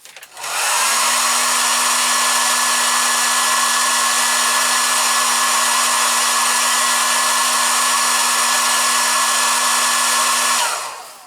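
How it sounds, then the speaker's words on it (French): A hair dryer blows on model car parts during assembly of a Jordan Mugen-Honda F1 kit, a loud, close, steady whooshing drone with a constant motor hum, switching on and running for about ten seconds before cutting off. "un petit coup de sèche-cheveux"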